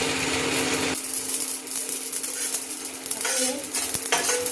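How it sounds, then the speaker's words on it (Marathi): Chillies dry-roasting in a pan over low gas, stirred with a utensil: a steady soft sizzle and scraping hiss runs throughout, with occasional light clinks of the spoon against the pan, close and alone with no talk. "आता हे भाजत असताना ना कमी एकदम कमी गॅसमध्ये भाजायचं आहे"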